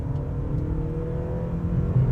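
A 2024 Honda CR-V 2.0L e:HEV hybrid accelerates with its engine joining in, giving a steady low hum and whir from inside the cabin that swells slightly near the end.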